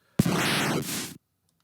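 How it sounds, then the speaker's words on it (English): A FamiTracker chiptune noise-channel arpeggio plays as one roughly one-second burst of harsh digital noise sweeping in pitch, then cuts off abruptly into silence. "And then the arpeggio is just this big kind of sweepy thing."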